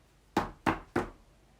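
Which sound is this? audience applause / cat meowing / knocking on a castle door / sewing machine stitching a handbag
knocking on a castle door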